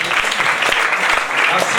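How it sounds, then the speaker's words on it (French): An award ceremony audience claps steadily, a brisk wash of many hands heard close up through the whole short stretch, with a voice faintly mixed in. "Applaudissez."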